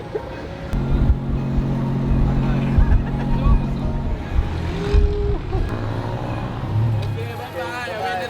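Tuk-tuk ride through Bangkok, Thailand: a steady motor drone with road noise and passing traffic runs throughout, and people talk over the engine.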